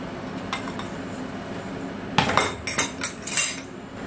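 Butter being cut into small pieces in a baking dish for a prune far, with a handful of light knife-on-dish clinks and taps, close and fairly quiet, no talking.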